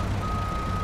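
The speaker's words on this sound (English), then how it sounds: "I heard the reversing beeps" Truck reversing alarm in the off-road driving game Snowrunner, a steady electronic beep tone heard alone, faint over a low engine rumble.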